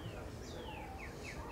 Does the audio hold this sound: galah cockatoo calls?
yes